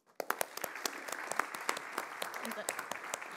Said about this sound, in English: please welcome him on stage with a round of applause